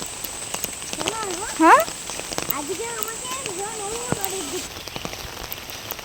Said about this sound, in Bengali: সকাল থেকে মোটামুটি এরকম বৃষ্টি হতেই আছে, একদম জোরেও হচ্ছে না, মানে থামছেও না